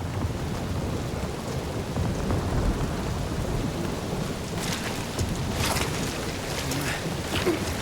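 Heavy rain pours steadily during a thunderstorm in the Guardians of the Galaxy video game, with rumbling thunder and crackling lightning strikes rising over the constant downpour near the end.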